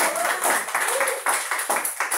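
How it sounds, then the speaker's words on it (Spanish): A church congregation claps loudly for the Lord during a Spanish-language service, a steady dense wash of applause with pulsing swells and some voices mixed in. "Que se escuche ese aplauso fuerte."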